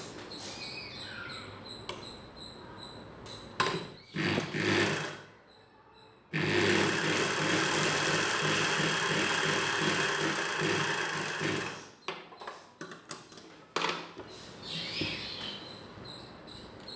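Electric sewing machine stitching folded petticoat cloth in fast, buzzing runs, the longest lasting several seconds, separated by short pauses and small handling clicks, close and clear with no talk.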